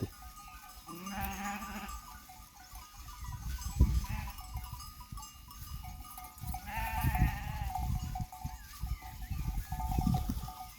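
Sheep bleating in a village flock outdoors, several calls at intervals, with rustling and movement in the background.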